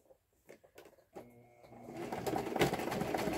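Sewing machine stitching a purse: a few soft bumps give way to a steadily building mechanical whir that runs continuously, close and moderately loud.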